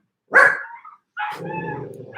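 A neighbor's dog gives a sharp bark followed by a longer whining, yelping cry, close and loud in an otherwise quiet room.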